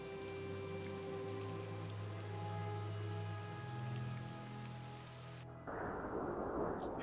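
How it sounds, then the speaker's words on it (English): Wind-driven dust storm ambience in the video game Morrowind, a steady windy whoosh beneath humming tonal layers that cut off abruptly, leaving a rougher, rain-like rushing hiss near the end; no talk. "Is it ever not a dust storm here?"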